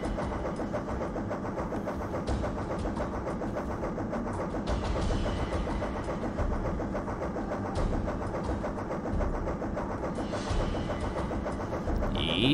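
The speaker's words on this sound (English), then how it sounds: "So why does the boat sound like a freaking train?" A boat engine in the Amiga game Ports of Call gives a steady, heavy drone, rumbling continuously, loud and close, with faint mechanical clatter running through it, sounding like a train.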